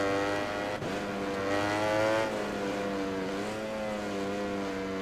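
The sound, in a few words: motorcycle engine riding a lap in MotoGP 20 video game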